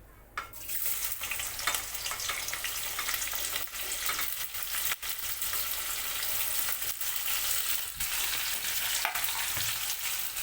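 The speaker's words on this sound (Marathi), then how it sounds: "तेल गरम झालं त्याच्यामध्ये मी हे 3 कांदे आणि लसूण टाकून घेते।" Onions and garlic fry in hot oil in a pan, a steady close, loud sizzle running throughout with faint stirring clatter and no voices.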